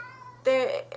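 A pet cat lets out a short, loud, close meow with a rising tonal cry, heard right after a person's speech.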